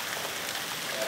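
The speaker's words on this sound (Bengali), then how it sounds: "আজকে বৃহস্পতিবারে এত সুন্দর করে একটা বৃষ্টি পড়ছে" A steady, even hiss of rain falls on a garden, soft and continuous throughout the short stretch.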